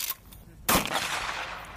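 A pump-action shotgun fires once at an outdoor military shooting range, a loud sudden blast with a trailing echo, preceded by a brief voice.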